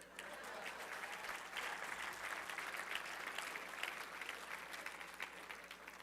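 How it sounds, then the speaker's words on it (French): Audience applause fills a French comedy or talk show stage, steady dense clapping from a crowd held at a fairly even, moderate level throughout, with no voices on top. "est-ce qu'on peut l'applaudir?"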